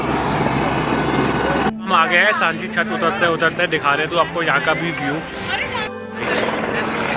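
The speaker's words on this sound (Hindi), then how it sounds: "हेलीकॉप्टर भी स्टार्ट हो गया" A helicopter near the Sanjhi Chhat helipad on the Vaishno Devi route runs with a steady droning rotor and engine hum that continues throughout, loud and close, while someone talks over it.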